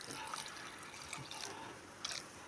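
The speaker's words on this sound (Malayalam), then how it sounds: "അത് നമുക്കത് കഴുകിയിട്ട് ഇതിലേക്ക് ഒഴിക്കാം" Rinse water is poured from a roasting pan into a grinder jar while potato masala curry is being made in a home kitchen, producing a soft, continuous trickle and splash that stays quiet and close throughout.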